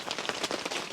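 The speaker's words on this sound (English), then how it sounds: "So I'm going to go into the rain" Heavy rain falling at a campsite makes a steady, dense hiss of drops pattering on surfaces, close and continuous throughout with no voices.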